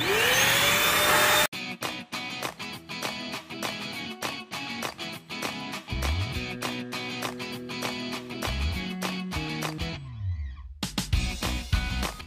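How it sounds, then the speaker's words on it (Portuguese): A household vacuum cleaner running on a rug gives a loud, steady whine for just over a second, then cuts off abruptly and gives way to background music. "Eu vou começar a passar o aspirador no tapete e vou mostrando aqui o resultado para vocês."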